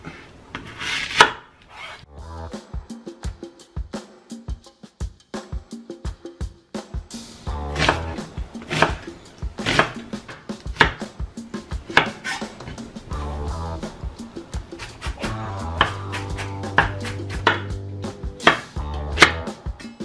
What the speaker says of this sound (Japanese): じゃあ、玉ねぎから切っていこう。